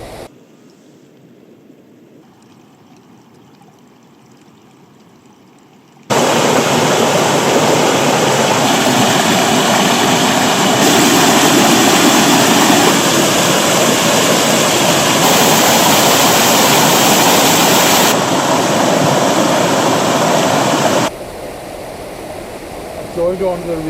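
Small waterfalls on a mountain stream in the Mweelrea Mountains, Mayo, a loud close rush of falling water that starts abruptly after quieter outdoor ambience and then drops back to a softer flow.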